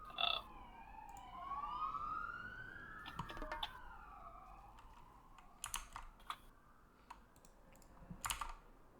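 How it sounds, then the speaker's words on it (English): Emergency sirens wailing outside, faint and distant, sweeping up and down in slow overlapping tones, with close computer keyboard clicking and typing layered over them. "these sirens, they're going off."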